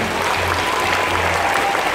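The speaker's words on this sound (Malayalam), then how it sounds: "എങ്കിലും അവർക്കായി നമുക്ക് വലിയൊരു കയ്യടി നൽകാം." Loud, close applause from an audience of school students at an award day, a thick continuous burst of clapping filling the moment with no talk over it.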